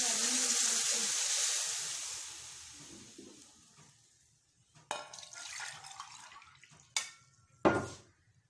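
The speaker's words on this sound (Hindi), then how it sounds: "बस अब इसमें पानी ऐड कर देंगे।" Water pours into a cooking pot for egg biryani in a steady rush that fades away, followed by a few sharp clanks of a pot or utensil.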